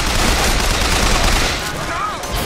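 Sustained, loud gunfire in the shooter game BioShock Infinite, a dense continuous barrage of shots filling the whole moment with no pause.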